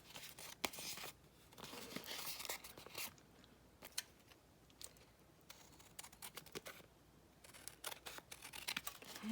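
An envelope is cut open with scissors, giving a run of soft snips, paper tearing and crinkling. The sounds come in close, quiet bursts with pauses between them.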